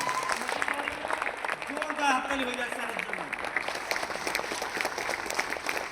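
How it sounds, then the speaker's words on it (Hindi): An audience at a Tiens business meeting in India bursts into loud, sustained applause and cheering while a voice keeps talking over the clapping. "यस सर एक जोरदार तालियां उनके लिए होनी चाहिए."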